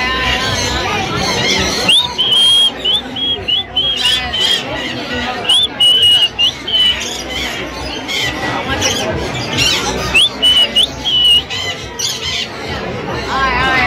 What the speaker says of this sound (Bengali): কালো ময়না পাখি পুরো